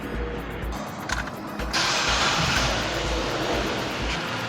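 A vehicle with coil-on-plug ignition starts, shifting from a low steady hum to a fuller, louder broadband engine run that holds steady, heard close.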